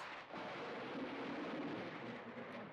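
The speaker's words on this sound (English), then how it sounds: "The room goes pitch black as thunder booms." Thunder during a heavy storm in a video game, a broad, continuous rumbling roar that fills the whole moment at a steady, moderately loud level, with no voices.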